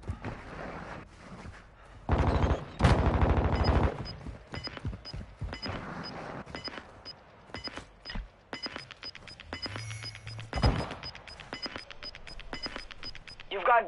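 Gunfire in the battle royale shooter Warzone 2.0: a few sharp shots and bursts pop at a distance, scattered and irregular among thuds and movement noise, with voices talking over parts of it.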